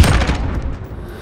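Gunfire in the video game Call of Duty: Modern Warfare, a loud booming shot up front followed by rapid rattling bursts that fade and thin out over a second.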